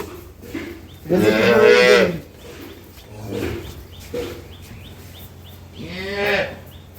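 A dairy cow at a farm moos loudly and close, with three drawn-out calls spaced over several seconds, the first and last longest, above a low steady hum.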